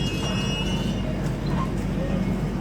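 A Ro-Ro rail freight train carrying lorries rumbles past, a steady low rolling drone heard from nearby for the whole stretch, with faint background noise and no clear speech.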